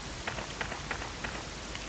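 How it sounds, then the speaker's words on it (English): Rain in the Resident Evil Director's Cut game, a steady wash of falling rain with soft periodic drip-like taps recurring at a regular pace, fairly quiet and with no voices. "It's raining."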